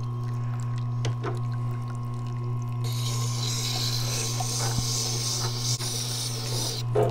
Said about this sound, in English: I want to grind this until basically all of the black is gone